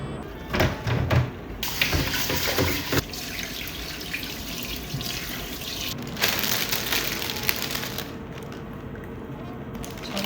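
Blanched chicken rinsed under cold running tap water in a kitchen sink, a steady close rushing flow with splashing bursts, brief pauses and handling clatter.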